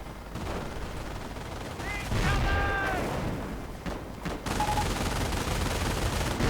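An MG42 machine gun in a World War II strategy game fires bursts of rapid automatic rounds amid other battlefield gunfire and booms, loud and dense throughout.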